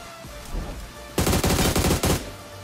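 Gunfire in the video game PUBG: a short rapid automatic burst of several loud shots, then one more crack, over a quieter game background.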